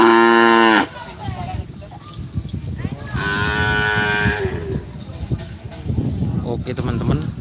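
Racing cows bellowing at a Madura cow race ground in Pamekasan, one loud near moo at the start and another long low moo midway, over crowd chatter and voices.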